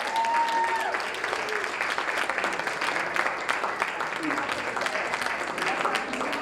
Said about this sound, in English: So give all of our sponsors a round of applause.